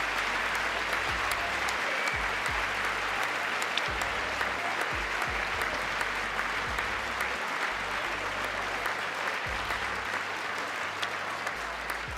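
Sustained, dense applause from a large audience at a State of the Union address, loud and steady throughout with scattered sharper claps and no clear speech.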